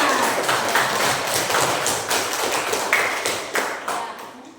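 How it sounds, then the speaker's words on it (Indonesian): Students in a classroom clap their hands together, a close, steady patter of claps that fades slightly toward the end. "Tepuk tangan untuk kita semua ya"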